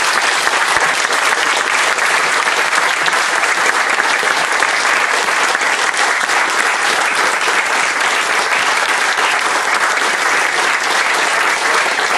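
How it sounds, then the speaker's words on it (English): Loud, dense audience applause at the Herstmonceux Astronomy Festival in honour of Sir Patrick Moore, a steady wash of many hands clapping for about twelve seconds without letting up. "can we make this round of applause a thank you for the last 50 years?"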